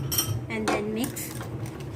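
Cream is stirred into melting chocolate in a pan over low heat, a spoon scraping and clinking against the metal a few times close by, while a voice speaks briefly alongside.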